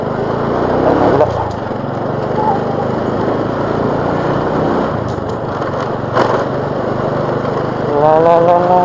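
A motorcycle engine runs in a steady, loud drone during a ride, mixed with heavy wind buffeting.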